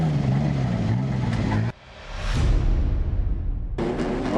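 Speedway race cars on a dirt track rev their engines loudly, a roaring drone that cuts out, then swells back as cars pass close by in front of the grandstand.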